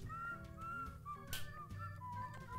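Repeated whistled tune from a character in a Baldi's Basics broom-themed video game mod, a series of clear rising and falling notes over game background sounds and music.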